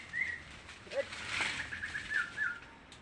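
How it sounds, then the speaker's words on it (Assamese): Birds on a steep wooded hillside sing in a few thin, high whistled calls spread across the moment, moderately distant, with a soft flutter and light outdoor rustle between them. "বহুত ধুনীয়াকৈ চৰাই চিঙি আছে"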